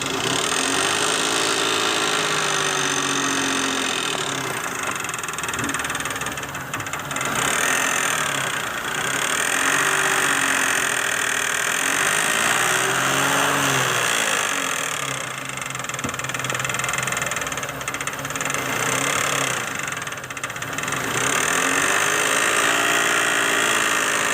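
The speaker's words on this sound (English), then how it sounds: "we just put the motor in it and it's making a lot of noise. I think the noise is coming from the chains." A 2006 Chrysler 300 with a freshly installed 2.7 liter engine runs steadily with loud mechanical clatter from noisy timing chains, a constant close idle with rhythmic swells in the rattle and no talking.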